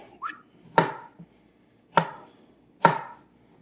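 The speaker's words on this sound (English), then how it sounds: "we're just going to cut them into, try to get like bite-sized pieces maybe, the best you can" Cooked cauliflower being cut into bite-sized pieces for a salad: three sharp, separate knife strikes against a cutting board, close and clear in a quiet room, with a small softer knock before the first.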